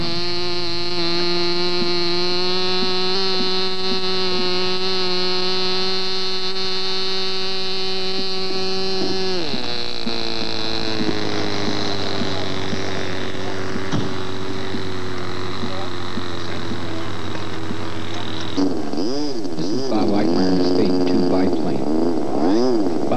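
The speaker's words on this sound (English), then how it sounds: "Rick's airplane flies in 60 to 65 miles per hour." A kit-built Cougar radio-controlled model airplane flies at 60 to 65 mph, its engine a loud, sustained buzzing whine that shifts pitch as it passes and maneuvers, with a narrator talking over it.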